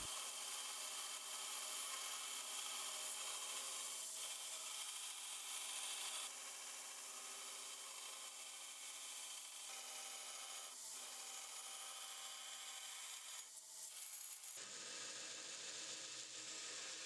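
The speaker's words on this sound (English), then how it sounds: "I'm going to bring it over to the grinder to dial in the profile." A belt grinder dials in the profile of a W2 steel clip point knife blade, giving a steady, loud abrasive rasp that runs unbroken for about fifteen seconds before the tone shifts abruptly near the end.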